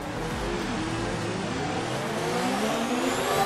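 A Formula 1 car revs on the starting grid in F1 2019, its engine a loud, sustained high-pitched whine that climbs steadily in pitch without interruption.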